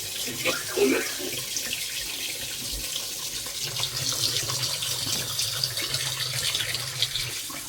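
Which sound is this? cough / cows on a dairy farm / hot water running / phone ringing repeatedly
hot water running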